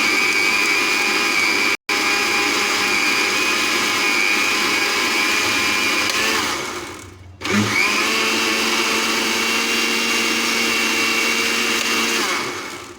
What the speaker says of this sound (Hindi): शरबत को अच्छी तरह से ग्राइंड कर लेंगे